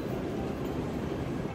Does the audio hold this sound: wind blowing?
no